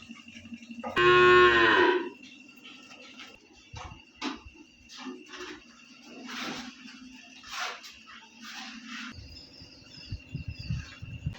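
Cattle on a dairy farm with about fifty cows: one loud, drawn-out moo close by, followed by quieter scattered knocks, shuffles and farm noises.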